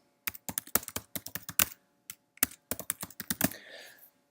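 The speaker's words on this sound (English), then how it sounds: "And then I'm going to type in my email address." Rapid clattering keystrokes on a computer keyboard, close and crisp, in uneven bursts with a short pause midway, no talking.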